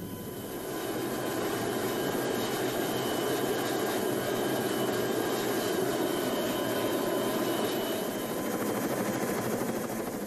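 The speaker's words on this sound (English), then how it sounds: "On the flight back, the helicopter lands on an American warship." Helicopter flying over Aceh after the tsunami, heading out to an American warship: a steady, loud rotor and engine drone that holds for the whole stretch with no talk over it.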